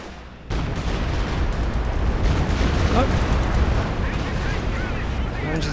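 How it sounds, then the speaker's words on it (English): A Stuka rocket artillery launcher fires in a World War II strategy video game, a loud dense rumbling barrage of launches and blasts following a sudden onset, with a commentator talking over it. "Stuka's shooting."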